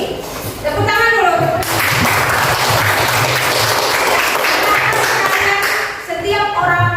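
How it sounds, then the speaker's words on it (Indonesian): A classroom of students claps hands together in a loud, dense burst lasting several seconds, with children's voices and a teacher speaking before and after the clapping. "Oke, tepuk tangan dulu."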